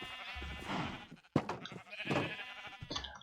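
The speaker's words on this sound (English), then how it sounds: "Alright, shut up, sheep." Sheep in the Minecraft GregBlock modpack bleat in two close, fairly loud wavering calls with a short gap between them, alone without talk.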